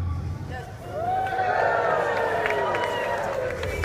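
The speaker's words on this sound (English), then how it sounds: "Huge round of applause" A crowd at the launch of the 2015 Kukri Ulster Rugby home and away kit cheers and whoops. The noise swells after a brief lull into a loud, sustained roar with scattered claps and rising shouts.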